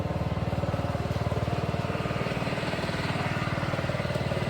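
Small engine-powered fishing boat passing along a Kerala backwater lake, carrying clam workers home: a steady, close, rapidly pulsing motor putter that holds even throughout.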